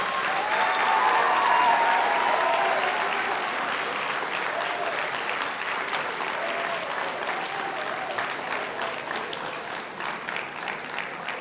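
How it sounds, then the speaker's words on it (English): Audience applause at a 2018 National Honor Society induction ceremony, steady, dense clapping from many hands that swells early and then holds at a slightly lower, even level throughout. "please join me once again in applauding all of your National Honor Society members"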